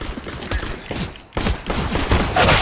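Rapid gunfire bursts from a Counter-Strike: Global Offensive competitive match, dense volleys of shots with a short lull midway, loud and close throughout.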